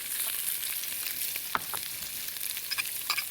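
Sliced shallots and seeded jalapeño strips fry in a pan with a continuous bright hiss and sizzle, punctuated by a few louder crackles and the clicks of stirring.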